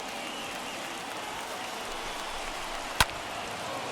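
Baseball crowd in MLB The Show 21, Padres vs Dodgers, rising to its feet late in the game: a steady, even wash of crowd noise and applause throughout, broken by one sharp, brief crack near the end.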